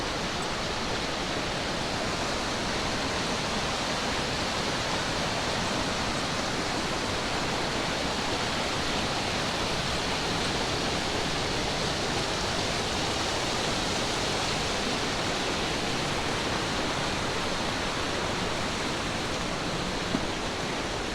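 A creek flowing near Clear Lake, Oregon, gives a steady, dense rush of water that holds an even loudness for the whole stretch, close and unbroken, with no voices over it.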